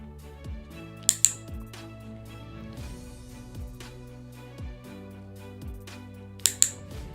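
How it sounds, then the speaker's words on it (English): A dog-training clicker snaps twice in quick succession near the start and again twice near the end, sharp close clicks over a faint low background hum during trick training. "So I'm clicking the moment that he tries to tap that food out of my hand."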